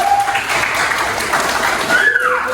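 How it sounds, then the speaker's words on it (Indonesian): Clapping from a group of students at a school program, steady and fairly loud for the whole stretch, with a faint tonal whine passing over it. "Tepuk tangan buat kalian semua."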